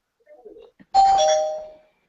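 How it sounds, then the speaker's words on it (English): A single doorbell rings once, close and clear, as a bright sustained chime that fades over about a second, following a few faint sounds before it. "Whose doorbell is that?"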